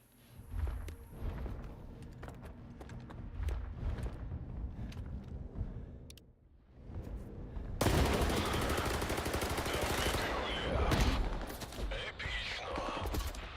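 Gunfire rattles in the video game S.T.A.L.K.E.R. 2: scattered shots and bursts give way to a loud, dense, sustained barrage of rapid automatic fire, fairly close, with faint footsteps.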